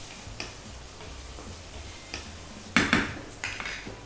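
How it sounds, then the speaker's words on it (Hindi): Okra and chopped tomatoes are sautéed in a pan for a dhaba-style bhindi masala, heard as a series of sharp metallic clinks and taps of a spatula against the pan over a soft background, with no talking. "इनको भी भून लेते हैं अच्छे से।"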